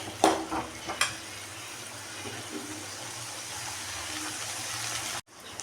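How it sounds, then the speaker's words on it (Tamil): Onion and garlic sauté in a pan over a medium flame with a steady, fairly soft sizzle, broken by a couple of brief stirring clatters near the start. "பொன் வறுவலாக வர வரைக்கும் வதக்கிட்டே இருக்கலாம். மீடியம் ஃப்ளேமில் வச்சு வதக்கிக்கோங்க."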